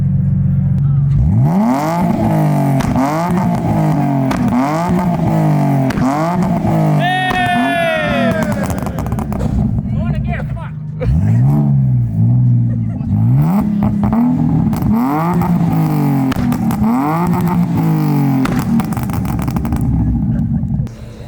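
A BMW engine revs hard in repeated rising bursts, loud and close, each climb falling back before the next, with a brief lull midway. The revving is being used to light a fire.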